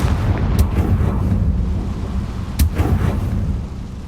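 In Hogwarts Legacy, a Confringo spell goes off as a deep rumbling blast, with a couple of sharp cracks riding on a sustained low roar for about four seconds and no talk over it.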